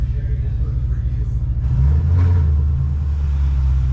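Ford Mustang GT engine revving at half throttle, a loud low rumble that swells midway, with a voice talking over it.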